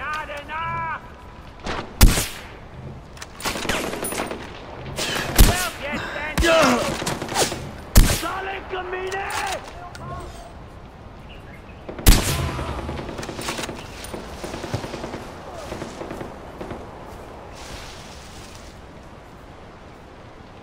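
Gunfire in Far Cry 4, sharp loud shots cracking out singly and in short bursts at irregular moments, with a voice talking between them.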